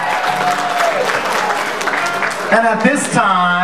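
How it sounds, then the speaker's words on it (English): Applause at a wedding reception, a broad wash of clapping from guests filling the room, with an announcer speaking over it and then continuing to talk as the clapping carries on. "Round of applause, ladies and gentlemen."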